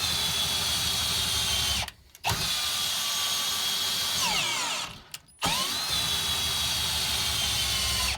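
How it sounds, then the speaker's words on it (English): A cordless drill fitted with a 3/4 inch socket drives an RV stabilizer jack, whirring loudly and continuously with two brief stops where the motor cuts out and restarts, its pitch shifting under load. "this is a 3/4 inch socket. You put it in the drill"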